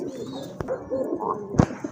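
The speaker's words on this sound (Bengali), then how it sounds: "আরেক জোড়া কবুতর, বোম্বাই কবুতর" Bombay pigeons coo at moderate volume, low warbling calls repeating over background noise, broken by a couple of sharp knocks or flaps.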